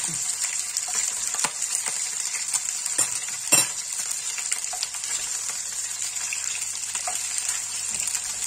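Chicken drumsticks browning in a pan for a tomato dish, a steady soft sizzle and fry with an occasional clink or scrape, close and continuous.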